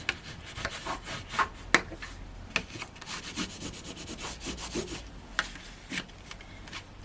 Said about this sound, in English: I can bring in my burnishing tool